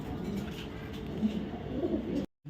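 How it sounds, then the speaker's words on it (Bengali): A red checker female racing pigeon gives low, soft cooing murmurs close by over a steady background hum, ending in a brief cut to silence. "এটা রেড চেকার একটা মাদি কবুতর"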